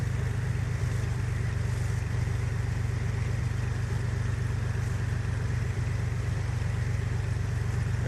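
Steady aircraft engine drone at idle power on final approach to runway 19, a constant loud low hum with airflow noise running unbroken throughout.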